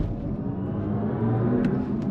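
An electric BMW accelerates hard from inside the cabin, a steady low rumble and whir building under the drive with no engine note, heard close and continuous.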